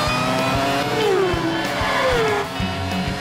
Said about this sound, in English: Come on, Lolly, floor it